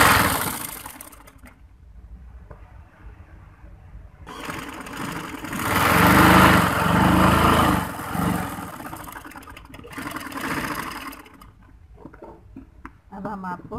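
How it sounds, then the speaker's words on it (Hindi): A sewing machine stitches the sleeve fitting on a chunnat (pleated) sleeve, its motor whirring steadily in bursts that swell loudest midway through, with speech present around it. "अब हम बाजू की फिटिंग की सिलाई लगाने लगे हैं।"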